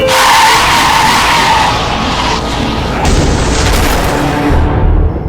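A car skids and crashes on a highway in a Hindi crime drama, a loud sustained tire screech blending into harsh crashing noise for several seconds, with no talking.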